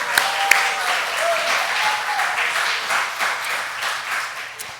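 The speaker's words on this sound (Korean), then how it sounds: "박수." Audience applause at a talk or lecture: steady, dense clapping from a room full of people, holding at an even level throughout with a few sharper individual claps near the start.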